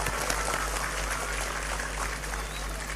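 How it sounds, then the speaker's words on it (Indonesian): Audience applause at an Islamic religious gathering (pengajian), a continuous patter of many hands clapping at moderate level, with a low steady hum beneath it throughout. "Tepuk tangan untuk Indramayu."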